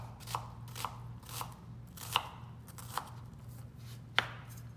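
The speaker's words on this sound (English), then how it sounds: "We're gonna do dices. About 1/4-inch pieces. I start at one end, turn it over like that" An onion being diced into quarter-inch pieces, with six crisp knife chops on a cutting board at an uneven, unhurried pace, close and fairly quiet, with a low hum beneath.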